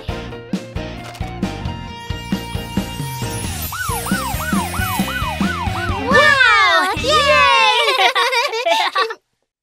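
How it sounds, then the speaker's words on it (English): A wailing police-car siren with rising and falling tones plays loudly after a bouncy musical intro in a children's song, ending abruptly. "This is a police car!"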